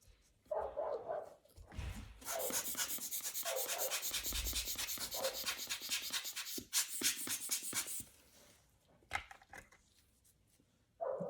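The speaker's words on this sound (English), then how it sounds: "I like cleaning crystals with these alcohol lens wipes." An alcohol lens wipe rubs across a watch crystal, giving a close, steady stretch of dry, scratchy rubbing strokes with a few softer scuffs before and after and no talking.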